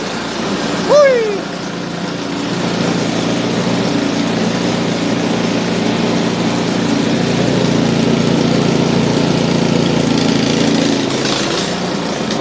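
A small engine held at a raised idle runs steadily and loudly, close by, with a brief chirp near the start and faint voices underneath.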